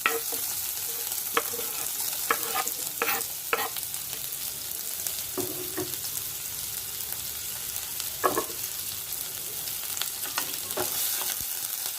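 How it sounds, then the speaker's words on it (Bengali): Chopped garlic and onion fry in oil in a pan, a loud steady sizzle close up with repeated scraping and stirring strokes scattered through it. "একটু ভাজা হোক লাল লাল করে।"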